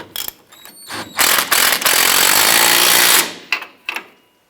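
A power tool, likely an impact wrench, tightens the nut on a shock absorber bolt of a 2004-2012 Chevrolet Colorado: short loud bursts, then about two seconds of continuous rattling hammering, ending in a few brief taps, up close.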